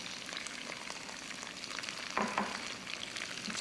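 Onions and peppers frying in oil along with zucchini and broccoli for a veggie pizza topping, a steady close sizzle with a brief clink of stirring partway through.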